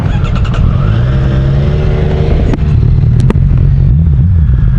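A Kawasaki Z1000SX motorcycle engine revs up close and loud, its pitch climbing and falling through several throttle blips with a couple of sharp clicks along the way.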